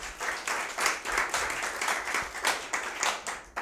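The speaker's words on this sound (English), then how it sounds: "It's always great to get the applause before I disappoint." An audience claps for a speaker being introduced at a business talk event, a full pulsing round of applause with some louder surges, no voices over it.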